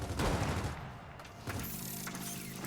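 A torque bow fires in the Gears of War 4 video game with a heavy blast, followed by loud layered combat booms and rumbling explosions that continue through the clip.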